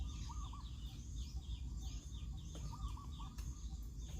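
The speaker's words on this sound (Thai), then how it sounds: "มีเสียงนกป่าอยู่ทางด้านนู้นครับผม" Soft, repeated cooing calls of a wild spotted dove drift in from a distance, short rounded phrases over steady outdoor background noise, with other faint chirps scattered around.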